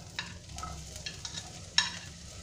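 Chopped onion stirred in hot oil in a pan for street-style chow mein, with a soft continuous sizzle under several light scraping and clinking strokes of a spatula, fairly faint and close.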